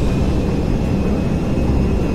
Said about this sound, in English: Can Mr. Franco land this massive cargo plane?